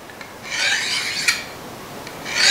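Knife being sharpened on a butcher's steel, one or two long raspy swishing strokes of metal on metal, close and clear with no talking.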